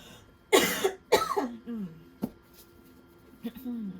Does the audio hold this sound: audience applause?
no